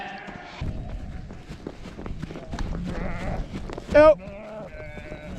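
Lambs bleat repeatedly on a pasture farm, close and fairly loud, mixed with a voice and some footsteps.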